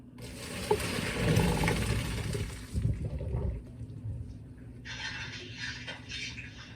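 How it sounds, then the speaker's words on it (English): Pasta water rushes and splashes steadily through a strainer into a sink for a few seconds, then fades to a quieter trickle before another burst of running water. "I'm going to strain this in the sink."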